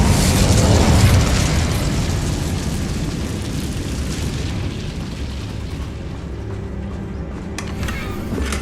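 A fiery Incendio spell bursts out in a wizarding video game, opening with a loud whooshing blast and deep rumble that settles into a sustained crackling roar.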